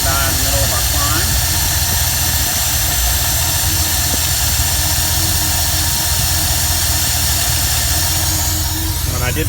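A 1973 Ford Econoline camper van's engine drones loud and steady throughout as it is given more fuel while climbing a hill, with a continuous hissing roar close by.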